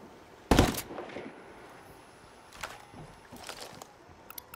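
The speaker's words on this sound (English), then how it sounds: "I'm getting shot at from across the way" Gunfire in Ghost Recon Wildlands: one sharp loud shot, then a few fainter distant bursts and scattered cracks over a quiet background.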